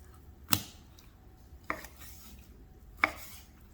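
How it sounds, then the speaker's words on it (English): A knife slices through cooked steak against the grain, giving three separate sharp cuts against a board, spaced apart and close by, with no talking. "now that our steak is done, we'll go ahead and start cutting it"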